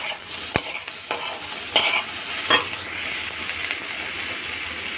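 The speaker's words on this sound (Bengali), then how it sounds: "হলুদ দিয়ে এটাকে একটু হালকা নাড়িয়ে দেবো" Stirring in a pan of frying spices with turmeric, Kashmiri red chili powder and grated ginger-garlic: a steady sizzle and hiss with several scraping knocks of the spoon, close and alone.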